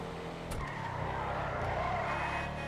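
A steady, droning engine hum from the Canis Freecrawler jeep in Grand Theft Auto V holds throughout at moderate volume, with a brief squeal near the start.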